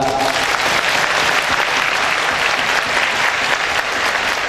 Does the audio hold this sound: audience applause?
yes